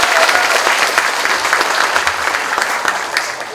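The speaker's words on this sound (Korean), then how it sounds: "뜨거운 박수 부탁드립니다" A hall audience at a university staff meeting breaks into warm, sustained applause after a stage performance, many hands clapping densely and loudly throughout without pause.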